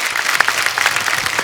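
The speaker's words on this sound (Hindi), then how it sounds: "एक बार उनके लिए जोरदार तालियां हो जाए।" Studio audience applause on a comedy talk show, a short, loud, even burst of many hands clapping together.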